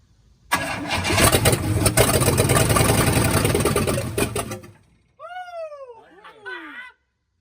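An abandoned 1966 Cadillac Eldorado that sat for 40 years roars loudly for about four seconds, then cuts out abruptly, followed by short gliding vocal sounds.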